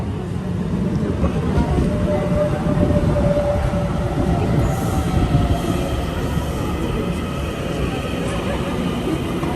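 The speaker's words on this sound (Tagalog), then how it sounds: "Ayan na yung train." A train passing by in Taiwan, a heavy continuous low rumble with rattling wheels and a faint squeal, close and sustained, with people talking over it.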